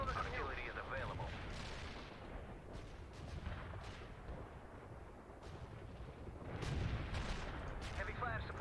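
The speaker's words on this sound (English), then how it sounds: "Artillery strike on the way." Artillery fire in the World in Conflict game: repeated heavy booms and rumbling blasts roll on continuously, loud and dense, with radio-style voices talking over the barrage.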